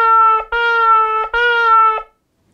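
A shofar sounds three broken blasts in the shevarim pattern, each a steady, bright horn tone separated by short breaks. It is loud and close, with no voices, and silence follows.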